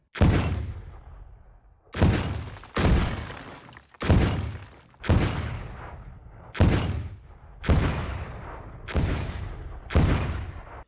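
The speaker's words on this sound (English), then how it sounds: "I'm gonna go for explosion sounds" A series of eight booming explosions, each a sharp blast decaying into a rumbling tail, spaced roughly a second apart, loud and close.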